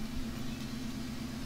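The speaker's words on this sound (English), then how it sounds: "I'm gonna grab the pickup" A pickup truck engine in a farming video game drones steadily at idle, a constant close hum with a strong low tone and no other sounds.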